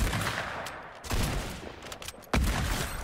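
Gunfire in the Fortnite video game, with heavy, loud blasts and sustained bursts of shooting that swell and cut in abruptly, including a sharp jolt late on, with no talking.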